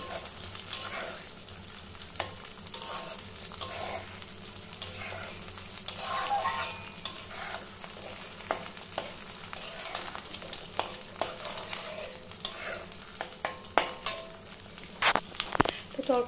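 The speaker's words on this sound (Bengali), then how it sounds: "তেলটাও দিয়ে দিয়েছি, এবার হচ্ছে ডিমটা দিয়ে দেবো।" Eggs frying in oil in a pan give a steady, fairly quiet crackle and sizzle throughout, broken by scattered sharp pops and a few clinks near the end, with no voices.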